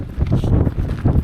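Strong wind on a trail near Skógafoss, Iceland, hitting an unprotected microphone. It comes as brief low gusty buffeting thumps, rough and close, with no other sound.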